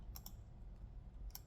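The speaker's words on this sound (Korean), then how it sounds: "컨트롤 1번 눌러서" A computer keyboard shortcut being pressed during a spreadsheet lesson, heard as a few quick, faint key clicks near the start and again near the end over a low background hum.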